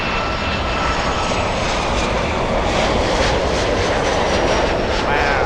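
American Airlines jet airplane at Miami International Airport, a loud continuous engine roar with a rushing hiss that holds steady throughout, close by.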